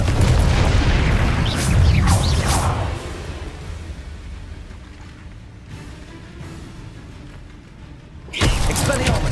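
Confringo and Incendio spell blasts in the Hogwarts Legacy video game: booming, whooshing bursts at the start fade into a low rumble, then a fresh loud blast strikes near the end.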